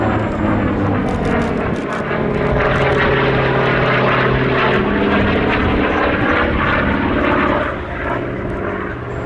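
A Grumman Bearcat propeller aircraft flies at the Duxford air show, its piston engine giving a loud, continuous rumbling drone with a throbbing propeller beat that swells slightly and then eases toward the end.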